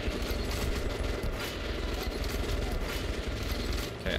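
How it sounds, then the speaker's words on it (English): Gunfire in Metro Last Light Redux, dense sustained rapid shooting with heavy clattering reports throughout, loud and close, with no clear gaps. "Hit him with the sniper!"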